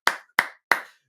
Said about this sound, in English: Everybody, let's give Eric Jackson a round of applause.